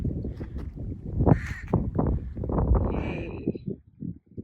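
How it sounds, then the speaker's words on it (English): Several crows caw repeatedly near a high cliff on White Cliff Island in the Broughton Archipelago, harsh calls overlapping in an irregular series, fairly close and loud against faint outdoor background. "Find the crows in the background."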